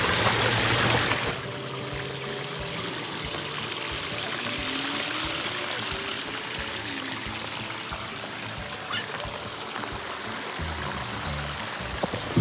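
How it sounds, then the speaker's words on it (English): A small waterfall in a backyard turtle pond splashes and trickles continuously, a close, steady wash of falling water with faint bubbling and no talk. "Here's the waterfall."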